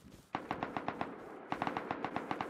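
Automatic gunfire in the survival video game Rust, two rapid bursts of sharp evenly spaced shots, loud and punchy, separated by a brief gap, with no talk.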